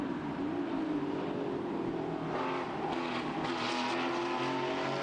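A Porsche 993 race car engine on the Red Bull Ring circuit in a Porsche Sports Cup race, a steady, fairly faint drone that rises slightly in pitch as the car passes, with no voices.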